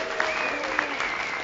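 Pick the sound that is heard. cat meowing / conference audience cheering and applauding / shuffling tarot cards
conference audience cheering and applauding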